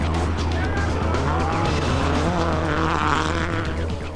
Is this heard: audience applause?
no